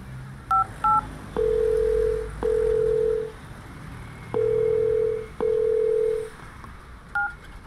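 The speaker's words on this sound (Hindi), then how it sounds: "गाजियाबाद तो पहुंच गया, अब राजेश ना फोन कर लूं।" A few quick touch-tone beeps of a telephone number being dialed, then four long, evenly spaced ringing tones and a final pair of short keypad beeps, clear and close with no speech.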